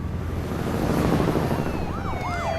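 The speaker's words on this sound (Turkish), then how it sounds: "Bir sürü polis arabası da gitti değil mi?" Police sirens wail and sweep up and down in pitch, several overlapping, over a steady rumbling background with no talking.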